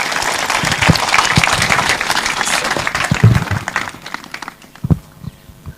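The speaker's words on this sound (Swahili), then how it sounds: "Situmkaribishe kwa makofi" A crowd claps and applauds at an outdoor political rally in Ngong, Kajiado County, Kenya, the dense clapping loud and sustained before thinning out near the end with a few scattered claps.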